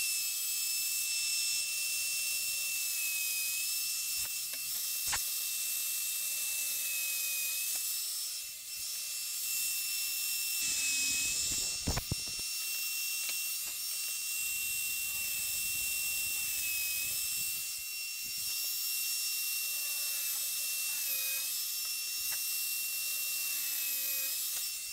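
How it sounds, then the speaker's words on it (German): An electric drill on a drilling table bores dowel holes in plywood with a steady high whine that runs throughout, plus a brief harder burst where the bit cuts into the wood. "Das Bohren der Dübellöcher mit diesem Tisch funktioniert wirklich super."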